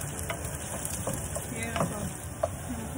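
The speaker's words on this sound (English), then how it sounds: "Now let that saute for a couple of minutes." Onions sautéing over medium heat in a pan give off a steady, even sizzle with soft crackles and a few faint clinks, close and continuous, with no talking.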